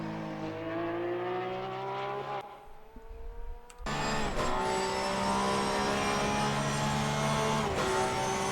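A 2021 Porsche GT3 R race car engine in Assetto Corsa Competizione at Imola, set up for high downforce, drones loudly and steadily with rising harmonic pitch, briefly dropping and cutting out before surging back as revs climb again.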